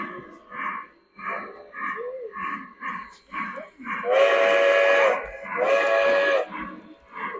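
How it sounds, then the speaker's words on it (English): A small O-gauge model steam locomotive chuffs in a steady rhythm, then gives two long, hissing whistle blasts close by. "There's the whistle steam."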